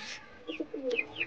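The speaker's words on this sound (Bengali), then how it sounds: "তো দেখো আমাদের কালো এই পায়রাটাও আসছে" Pigeons, among them a black one and Madrasi birds, coo in short soft throaty bursts, faint and close, with a few higher chirps mixed in.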